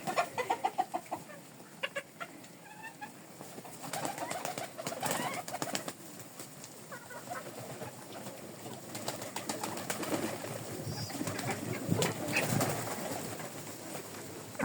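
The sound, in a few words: chickens clucking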